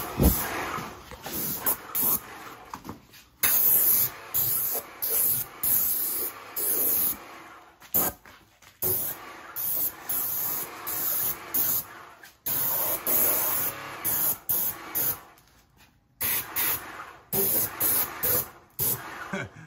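Bursts of loud, close aerosol spraying of Fluid Film rust-proofing under a Cadillac, in repeated on-off blasts of varying length, separated by brief pauses.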